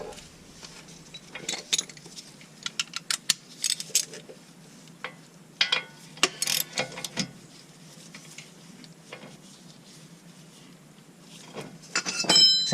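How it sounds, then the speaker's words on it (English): Sparse metallic clicks and clinks from a 17mm socket ratchet loosening the axle nut on a 1988-1991 fourth-generation Honda Civic, arriving in short irregular bursts with quiet gaps and a busier clatter near the end. "we're going to use a 17mm again down here to take this nut off."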